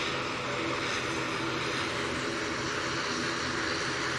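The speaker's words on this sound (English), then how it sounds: "Logan Air now going onto the active runway." A Loganair plane taxis onto the active runway at Manchester Airport with a steady, broad engine roar. The drone stays constant and moderately distant throughout, with no voices.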